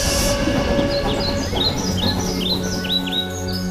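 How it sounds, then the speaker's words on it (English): A 100-year-old World Heritage train climbs through the Nilgiris hills, its steady rumble running throughout while birds chirp and tweet repeatedly over it. "I'm travelling up the Nilgiris on board a 100-year-old train that enjoys a World Heritage"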